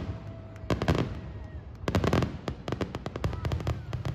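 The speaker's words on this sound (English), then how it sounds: "They launch so many different kinds of fireworks, and it looks magnificent." Fireworks show at Idlewild amusement park: rapid cracking bursts and booming reports pop in dense clusters and volleys, loud and near, with faint crowd voices between the blasts.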